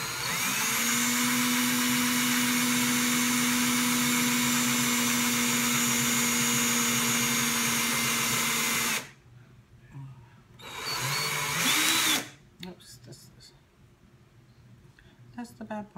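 A power drill twisting wire into a zipper coil whines loudly and steadily for about nine seconds, then stops; after a short second burst, a person speaks.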